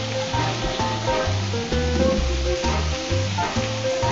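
Frying food sizzles steadily in a cooking video game, set against loud, rhythmic game music that dominates the mix throughout, with no speech.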